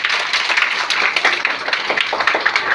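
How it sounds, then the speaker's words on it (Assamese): Audience hands clapping for a singer at an Assamese Goalpariya folk song event, dense steady applause with many overlapping claps throughout, fairly close. "জোৰকে হাত চাপৰি দিয়া বাইদেউ।"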